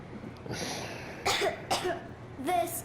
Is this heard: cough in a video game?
yes